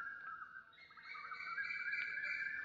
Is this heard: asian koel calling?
yes